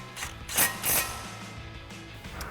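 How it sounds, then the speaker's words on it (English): A ratchet turns a 10mm socket to tighten a bolt on a Ford Bronco suspension lift install, giving a few quick clicking bursts up close, then quieter intermittent clicks. "And we'll tighten that back down with our 10mm socket"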